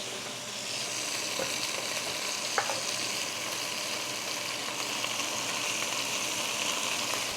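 Sinigang ingredients sizzle and fry steadily in a pan, a constant close hiss with occasional faint clinks of a utensil, no voices over it.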